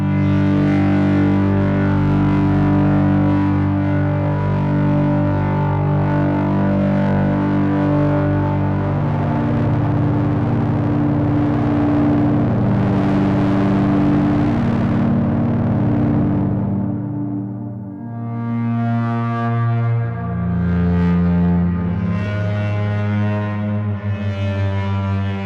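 An evolving cinematic drone synth patch in Pigments with tape distortion and reverb, thick sustained tones shifting slowly in pitch and texture, loud and continuous, thinning and swelling again in the final stretch.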